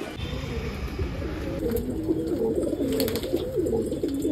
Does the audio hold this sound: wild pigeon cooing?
yes